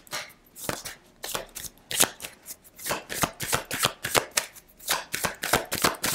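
Tarot cards shuffled for a four-card spread, a close, crisp run of riffling bursts and slaps in an uneven rhythm, heard alone without speech.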